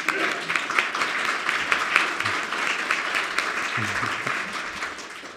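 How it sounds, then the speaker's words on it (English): A conference audience at CZEDER 2025 gives a big round of applause for the founding father of the event, dense clapping holding steady before tapering at the end. "maybe a big applause to Vladimír"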